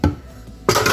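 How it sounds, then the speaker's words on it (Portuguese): Metal pots and pans clatter as they are put away in a kitchen: a sharp clank at the start, then a louder ringing metallic knock, close and alone. "Aqui, botando as panelas,"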